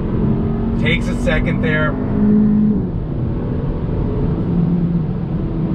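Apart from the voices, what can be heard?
2021 Hyundai Elantra N Line accelerating on throttle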